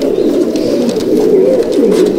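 Frightened pigeons on a rooftop loft, close and loud, giving continuous overlapping throaty coos that rise and fall in pitch.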